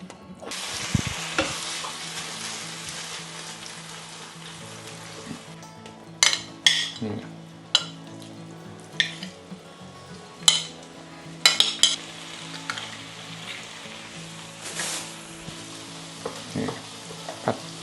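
Coarsely chopped garlic sizzles steadily in a hot pan while a utensil scrapes and clinks against it in irregular bursts, close by.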